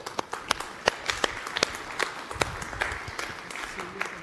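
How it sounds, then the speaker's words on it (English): Applause at an energy efficiency conference for Peru's Minister of Energy and Mines, with sparse, distinct claps scattered through a moderate room and some faint talk underneath. "A big round of applause for the Minister."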